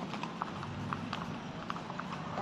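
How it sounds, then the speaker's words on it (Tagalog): Horse hooves clip-clop in a quick, steady rhythm of light knocks, moderately close against a faint background. "Siyempre, kabayo yan eh."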